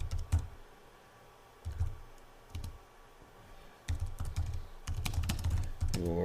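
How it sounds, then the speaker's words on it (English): Computer keyboard typing in bursts of rapid clicking keystrokes, close and fairly quiet, with short pauses between runs and no voices. "It's the typing and talking."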